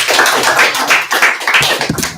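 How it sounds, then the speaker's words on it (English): Classroom applause for a student's paper airplane demonstration, a dense, close burst of many hands clapping at once that runs for about two seconds and fills the room. "Atticus, give Atticus a round of applause."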